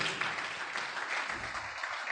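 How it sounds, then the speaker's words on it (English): Audience clapping at a doctors' conference awards ceremony, a short burst of moderately loud, dense applause filling the room. "Please give him a round of applause."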